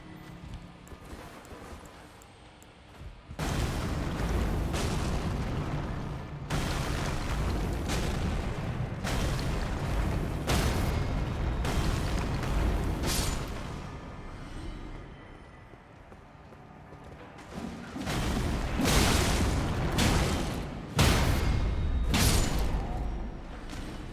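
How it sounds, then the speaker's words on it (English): Fireworks going off outside during early July, a series of loud broadband bursts and rumbling booms in irregular clusters, some sharp cracks, continuous and fairly close. "So many fireworks going off."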